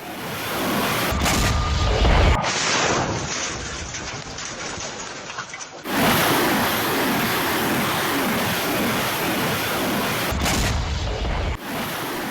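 Heavy blasts and rumbling from a Russian KH-555 cruise missile attack in Bakhmut, loud continuous roaring noise with sharp cut-ins and sustained crackling.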